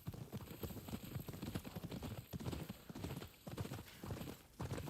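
Horse hooves clip-clop in a steady walking rhythm in the Ghost of Yotei video game, close and clear, the beats continuing evenly throughout.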